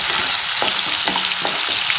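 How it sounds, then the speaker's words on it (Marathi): Chopped onion fries in two to three spoons of oil in a kadhai, giving a loud, continuous sizzle with a few short stirring scrapes and no voices. "कांदा आणि टोमॅटो 1 ते 2 मिनिट तेलामध्ये परतून घेऊयात."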